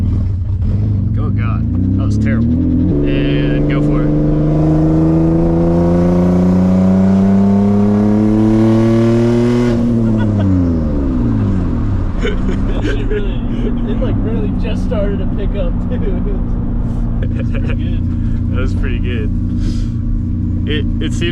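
A single-turbo Nissan 350Z with a DE engine accelerates hard in third gear, its engine note rising steadily and loudly before dropping sharply as the revs fall. Up close inside the car with the engine droning continuously, and a person talks over the engine noise.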